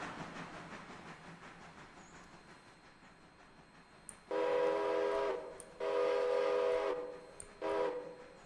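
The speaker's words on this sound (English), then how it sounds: "I hear steam engine noises." Steam locomotive whistle from the Railroader train video game, sounding in three long loud blasts with short gaps between them, each following a short high squeal, over a low rumbling rail-yard background.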